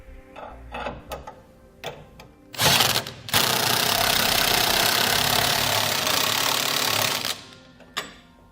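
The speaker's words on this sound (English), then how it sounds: "I'm going to come back using a 3/4 inch wrench and socket, and I'm going to snug up all my 1/2 inch hardware." A 3/4 inch wrench and socket snug up 1/2 inch hardware on a TorkLift tie-down install on a 2016 Chevrolet Silverado 2500, with short ratcheting clicks, then a long, loud, steady mechanical whirr lasting several seconds before clicks resume.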